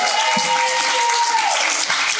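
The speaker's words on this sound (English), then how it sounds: "Clap if you've been in a bachelorette party before, or if you've been a bridesmaid." A comedy club audience claps in a dense, steady burst of applause that lasts a couple of seconds, filling the room at close range.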